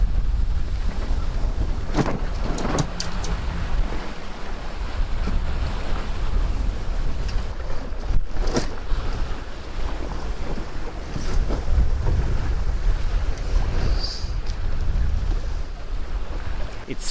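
A sailboat without an engine sails fast through waves on the Kattegat off Sweden in winter wind, with steady roaring wind buffeting the microphone, water rushing and splashing along the hull, and occasional louder gusts and slaps, no speech.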